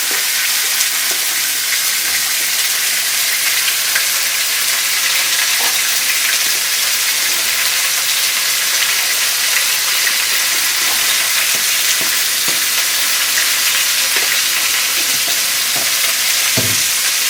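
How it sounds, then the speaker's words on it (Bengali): Pumpkin and potato pieces fry with turmeric and salt in a pan, giving a loud, constant sizzle and hiss with occasional stirring scrapes and no talking. "এবার পরিমাণ মতো হলুদ লবণ দিয়ে একটু ভেজে নিই"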